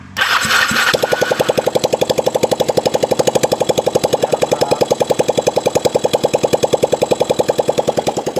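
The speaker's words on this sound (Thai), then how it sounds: "ลองสตาร์ทกันดูเลยครับ เปิดสวิตช์กุญแจ ยังไม่ได้ใส่ท่อนะครับ เสียงอาจจะดังหน่อย" A motorcycle engine with a faulty spark plug and no exhaust pipe fitted cranks and catches, then runs with a loud, rapid, raw popping beat, very close and harsh.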